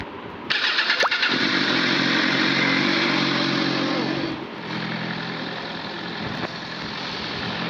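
A motorcycle engine in the video game Driving Empire catches, then runs steadily at a loud, close idle with a slight revving swell before settling lower and droning on.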